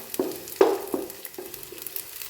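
Onions frying with coriander leaves, stirred in a pan: a few distinct scrapes and knocks of the spoon over a quiet sizzle, close and brief.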